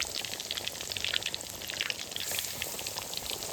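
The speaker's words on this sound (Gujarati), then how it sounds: "હવે મસ્ત તળાયું" Pomfret fish bhajiya frying in hot oil, giving a steady, close, dense sizzle with constant crackling and popping and no voices.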